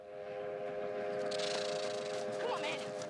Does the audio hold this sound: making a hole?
no